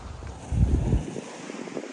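Ocean waves wash around the ruined Anglin's Fishing Pier at Lauderdale-by-the-Sea on a cloudy day, a steady broadband surge swelling briefly louder under gusty wind noise on the microphone.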